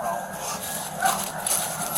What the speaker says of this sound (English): There are going to be 2 dogs in there, I believe.